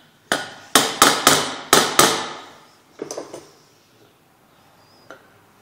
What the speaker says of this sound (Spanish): Para que entre bien el desarmador y se aflojen, hay que darle unos pequeños golpes también.